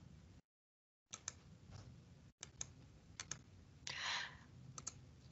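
Calculator keys being pressed to enter a fourth root: a run of sharp, close clicks and taps in uneven bursts with short pauses, plus one brief scratchy rustle near the end, with no talking.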